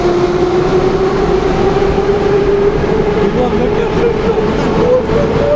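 Moscow metro train at a train parade, a steady loud rumble with a sustained tonal whine throughout, close and continuous, with faint background voices.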